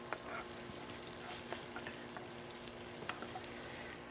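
Sausage sizzles steadily as it browns in a frying pan set on a Weber kettle grill outdoors in gusty wind, a close, constant crackle with occasional pops and stirring scrapes, no voices.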